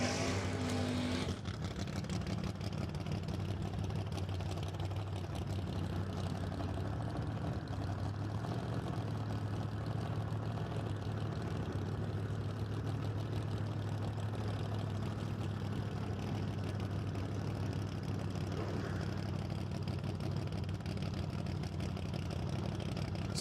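A 1969 Chevrolet Camaro drag car at a Douglas, Georgia drag race sits on the burnout box, its engine droning loud and steady with a continuous low rumble for the whole stretch, no voices over it.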